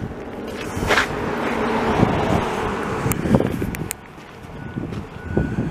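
Wind gusts across the microphone on a street in an industrial area of Montreal, Quebec, heard as rough buffeting rumbles that rise and fall, with passing traffic faintly beneath.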